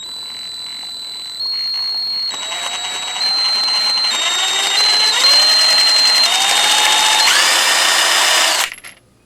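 HYCHIKA cordless impact wrench running in forward or reverse, a loud whirring motor whine that rises in pitch in steps as the variable speed increases, then cuts off abruptly near the end.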